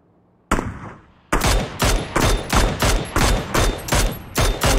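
Gunfire in the battle royale game PUBG: after a couple of isolated loud shots, a steady rapid string of about ten evenly spaced shots rings out, close and punchy, with no talk.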